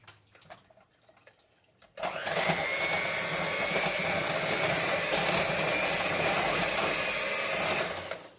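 A mixer creams soft room-temperature butter for buttercream frosting. After a quiet start it switches on and runs as a loud, steady whir that holds for about six seconds, then winds down. Nobody speaks.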